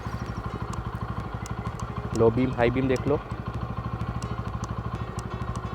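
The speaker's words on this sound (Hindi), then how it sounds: "बाइक को स्टार्ट कर लेते हैं, इंजन साउंड सुन लेते हैं, एग्जॉस्ट नोट सुन लेते हैं।" A Bajaj Pulsar N160 motorcycle idles just after starting, its single-cylinder engine thumping in an even, rapid pulse close by, while someone talks briefly over it in the middle.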